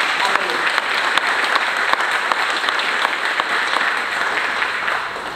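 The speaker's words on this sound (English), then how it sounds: "will you join me in a round of applause for Azusa Pacific University?" Audience applause for Azusa Pacific University at a school district summer program event: a dense, even wash of many hands clapping, loud and sustained for the whole stretch.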